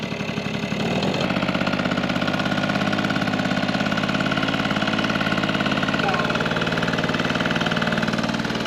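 A Quadzilla Buzz 50cc kids quad bike engine idles steadily while warming up, after a brief start at the beginning, with a continuous mid-pitched buzzing drone close to the microphone.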